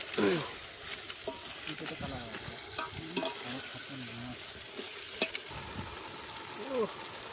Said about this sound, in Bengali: মশলাটাকে বড় বড় ভাজাই নেই আর কি